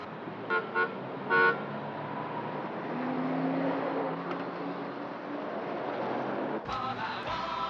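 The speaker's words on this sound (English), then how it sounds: "Look at this traffic." City traffic in a rush-hour jam, with three short car horn toots up front, then a steady rumbling wash of passing engines and a final longer blast of horns near the end.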